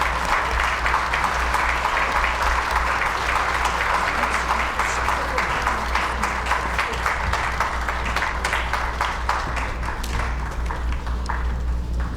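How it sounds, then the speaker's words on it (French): An audience gives loud, sustained applause to a philharmonic orchestra after an Easter concert, a thick, continuous wash of clapping that stays strong and even throughout, with no voices on top. "On les applaudit, s'il vous plaît."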